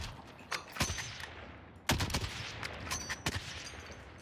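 Two loud gunshots in Call of Duty: Warzone ring out about a second apart, sharp cracks with a ringing tail, the second heavier, over a steady background hiss.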